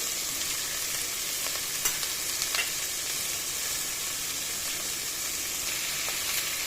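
Curry leaves, garlic, ginger and tomato are sautéed in a pan for channa masala, giving a constant even sizzle with a few faint stirring clicks and no talk.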